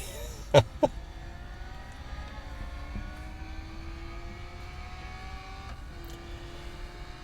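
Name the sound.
car accelerating in video game Real Racing 3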